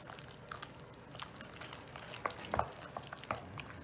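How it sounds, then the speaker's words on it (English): A wooden spoon stirs a thick cheese filling for a traditional cheese lasagna in a bowl, giving soft, wet, squelching scrapes with a few sharper clicks of the spoon against the side, fairly quiet and close. "And we're going to start stirring it, okay?"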